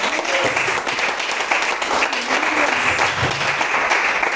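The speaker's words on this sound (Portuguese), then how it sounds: "Aplauda o Senhor em nome de Jesus" Church congregation applauds steadily throughout at a worship service, dense continuous clapping loud and close, with faint voices mixed underneath.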